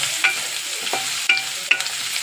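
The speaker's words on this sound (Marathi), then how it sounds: "आता आपण फ्राय करून घेऊ कांदा टमाटर सोबत" Onion and tomato fry in a pan, giving a soft sizzle under several sharp scraping stirs spaced irregularly over a couple of seconds, close and clear, with no voices.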